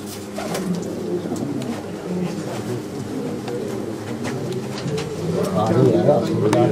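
Pure Mirab pigeons, a male and female pair, coo softly and steadily with someone talking over them throughout.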